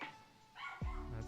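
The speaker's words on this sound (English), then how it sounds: "That's my dog." A pet dog, a female, gives a bark or two up close, abrupt and loud after a quieter stretch, with a low rumble following the sound.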